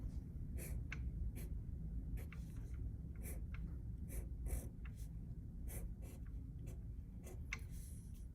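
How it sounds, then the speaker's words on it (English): Pen or pencil writing the numeral 5 on paper, a run of short scratchy strokes and taps close by over a low steady background hum. "I'm going to go ahead and write the word 5 right here"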